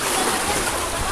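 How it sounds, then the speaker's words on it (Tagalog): Strong water splashes and sprays onto a small boat in a brief, continuous, close wash of noise, loud and without speech. "lakas po ng tubig."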